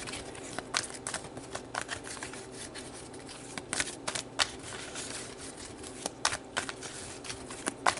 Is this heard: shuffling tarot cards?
yes